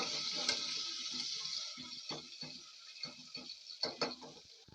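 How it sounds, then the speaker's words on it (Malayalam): Crushed green chilies stirred in a pan for egg masala, giving a steady sizzle with a series of short scraping strokes of a spoon at irregular intervals, close and fairly quiet. "ഇതിലേക്ക് ഞാൻ രണ്ട് മൂന്ന് പച്ചമുളക് ചതച്ചത് ഇട്ട് കൊടുക്കുന്നുണ്ട് അത് നമുക്കൊന്ന് ഇളക്കി കൊടുക്കാം"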